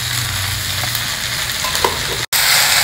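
Vegetables with turmeric, salt and homemade sambar powder frying in a pan over a medium flame, a steady loud sizzle with stirring scrapes throughout and a brief cut near the end.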